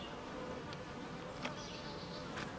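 Honey bees buzz steadily during a beehive inspection a few days after a split, a continuous close insect drone with a few brief sharper whines rising and fading, no talking.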